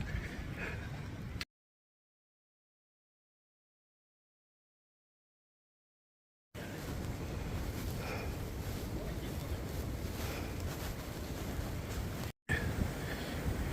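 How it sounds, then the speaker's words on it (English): Blustery wind on a mountain trail buffets the microphone in a low, steady roar that cuts out completely for several seconds before the rumbling gusts return. "I don't know if you can hear the wind in the background"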